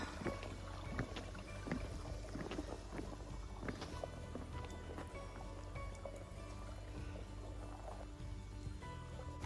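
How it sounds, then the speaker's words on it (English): A small, slow stream with some stagnant-looking patches flows beneath a little footbridge on the Appalachian Trail. It makes a steady, close trickle and gurgle that continues without a break. "it's flowing, but there's some stagnant looking stuff in it. Across this little stream."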